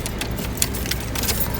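A bunch of keys jingles close up while being fitted into the ignition of a Chevrolet Caprice, with small metallic rattles over a steady background rumble.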